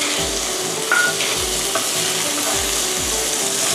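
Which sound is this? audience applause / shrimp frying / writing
shrimp frying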